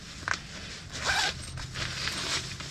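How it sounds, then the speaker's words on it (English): A zipper on a middle compartment of a -10-degree-rated Omnicore Designs camping sleeping bag is pulled in several quick, close rasping strokes with short pauses between them. "There's another zipper for the middle right here."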